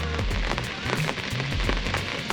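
Steady rain patters down at a night carp fishing camp on a weedy public water, a dense continuous hiss of drops on surfaces with low rumbles mixed in, close and fairly loud with no talk over it.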